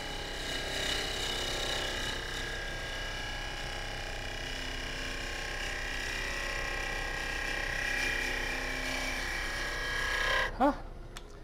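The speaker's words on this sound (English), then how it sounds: "that is a harmonic vibration starting." A double-chamber tobacco pipe spins on a lathe, giving a steady whine of layered ringing tones. The tones swell near the end into a harmonic vibration, with a brief sharp knock just before the sound cuts off.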